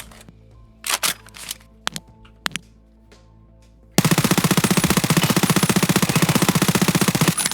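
P90 submachine gun in Escape From Tarkov, a few scattered clicks and single shots early on, then a long rapid full-auto burst of evenly spaced, loud, close reports lasting several seconds.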